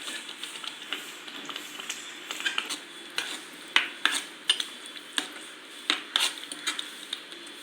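A spoon scrapes and clinks against a pot while chopped coriander is stirred into gongura curry, with irregular close metallic knocks over a quiet background.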